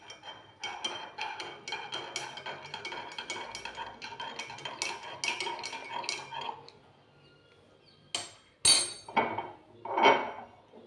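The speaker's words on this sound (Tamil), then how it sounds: "நான் இன்றைக்கி வெல்லம் கலக்கிறேங்க" A spoon stirring jaggery into guava leaf tea, a quick run of light metallic clinks against the vessel, then a pause and a few louder isolated knocks and clanks, close up with no talk.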